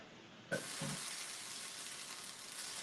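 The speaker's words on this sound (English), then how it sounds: "we're going to add a little bit of water. Boom. And then stir it up." Water poured into a hot skillet to deglaze it after cooking quesadilla filling, an abrupt burst of hissing sizzle that then settles into a steady, quiet crackle, heard alone up close.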